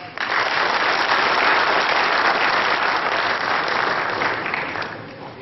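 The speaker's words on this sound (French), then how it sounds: "merci à applaudir Danis." A crowd at a pétanque masters tournament in Madagascar applauds the event organizer, a loud, dense, sustained clapping that holds steady for several seconds before easing slightly.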